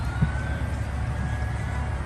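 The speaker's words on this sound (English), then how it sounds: "I hear sirens, so I'm guessing first responders are on the way." Emergency vehicle sirens on an interstate as first responders head toward a car accident, a faint steady wail far off beneath constant road and engine rumble.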